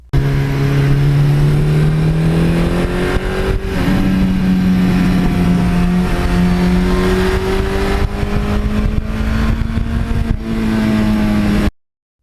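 A 1982 Suzuki GS1100E motorcycle engine revs loudly and close, its pitch climbing and settling in steady sustained pulls, with no voices over it.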